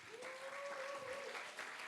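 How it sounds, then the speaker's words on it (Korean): Church youth worship congregation clapping to welcome newcomers, a short burst of applause heard at a distance. A faint sustained tone runs under part of it. "나오실 때 큰 박수로 환영해 주세요"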